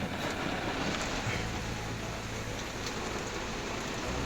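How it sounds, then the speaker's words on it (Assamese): Heavy rain pours steadily outside a parked car on a road trip between Tezpur and Biswanath Chariali in Assam, heard from inside the cabin as a constant dense wash with a low rumble, with no talking. "চাওক না বৰষুণ পূৰা দি আছে আপোনাৰ বৰষুণ"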